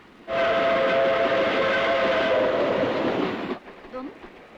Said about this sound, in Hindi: ये रेल तो बम्बई जा रही है।